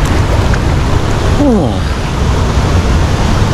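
Water flows in a loud, steady, close rush at Sumampan Waterfall in Bali, with a person giving a brief exclamation midway.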